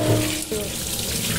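A kitchen tap runs into the sink in a short, steady rush of water, close and fairly loud, with a brief change in the flow midway.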